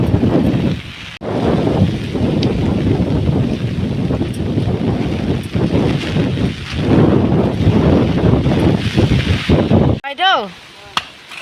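Strong storm wind roars through a village during a sudden rainstorm, buffeting loudly and almost continuously with gusty surges, then briefly dropping away near the end.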